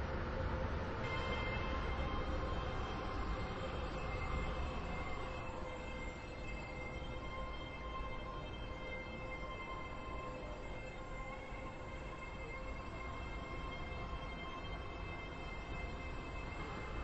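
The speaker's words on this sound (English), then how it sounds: "The train now approaching platform 15 terminates here." A train pulls into a platform at Stepford Central station in a video game, giving a steady, low rumble that runs throughout at a fairly faint level with no talk.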